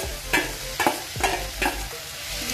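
Drumstick leaves fry in a pan with tomatoes, a soft continuous sizzle broken by four or five evenly spaced scraping stirs of a spatula, close and fairly loud.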